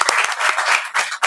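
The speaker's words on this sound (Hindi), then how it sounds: "चलिए इनको लिए एक बार ताली आप लोग जरूर बजाइएगा" Audience in an interview setting breaks into a short burst of hand clapping, fairly close and steady, dipping briefly before a final flurry of claps.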